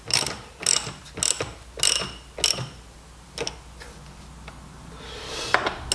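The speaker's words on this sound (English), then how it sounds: "now I'm just bolting it down now" A ratchet tightens coach bolts to fix a vise onto a workbench, giving several quick clicking bursts in a loose rhythm, close and moderately loud, followed by quieter handling sounds.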